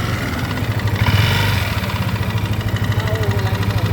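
A Yamaha Aerox 155 scooter engine idles smoothly up close, a steady mid-pitched hum with a slight rev swell around the first second, then settling into an even running drone.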